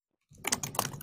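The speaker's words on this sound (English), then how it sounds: "It sounds like now we have some typing." Brief burst of typing on a computer keyboard picked up as interference on a remote call, a quick cluster of soft clicks that starts after a moment of silence and is heard alone and fairly faint.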